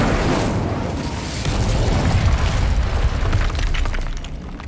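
Incendio fire spell cast in Hogwarts Legacy, a sustained roaring whoosh of flame with crackling bursts, loud and close, swelling midway then fading toward the end.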